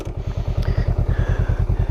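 Honda Rebel 500 parallel-twin motorcycle engine idling close by, a steady rapid loping thump with even pulses throughout, no talking.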